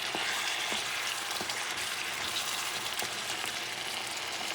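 Ground meat simmering in tomato sauce in a pan for a Puerto Rican pastelón, giving a steady, dense sizzle and bubbling that holds evenly throughout, with a few soft clicks of a utensil and no talking.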